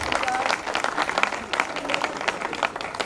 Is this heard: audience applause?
yes